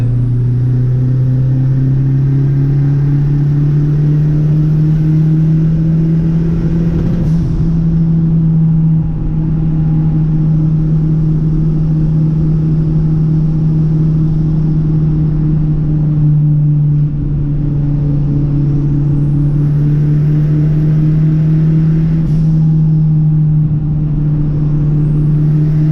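A Fiat 147 turbo car drives with a loud, steady engine drone that rises as it accelerates, with a turbo hiss swelling and releasing twice, heard up close from inside.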